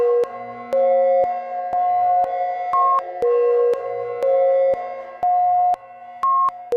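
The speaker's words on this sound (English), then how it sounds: "So this is delay 1 going through the reverb." Kajita multi-tap delay fed through a reverb plays a repeating synth pattern of steady electronic tones with sharp clicky attacks, echoing notes stepping between pitches in a loud, clean loop with no voices.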